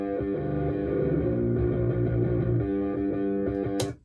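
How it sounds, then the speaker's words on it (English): Heavily distorted bass line, isolated as a solo track with a harsh, guitar-like fuzz and thin low end, playing steadily and loud before cutting off abruptly at the end. "that's very distorted, almost like a guitar distortion."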